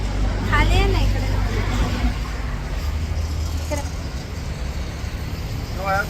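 Road traffic jam with cars and buses: a steady loud rumble of idling and crawling vehicles nearby, with a few horn-like tones and people talking over it.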